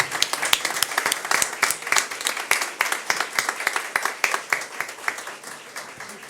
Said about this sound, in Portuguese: Agora as palmas.